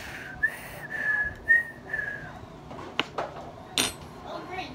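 Someone attempts a wavering, thin whistle during a food challenge, several short breathy tones in the first half, followed by a few sharp clinks and rattles nearby.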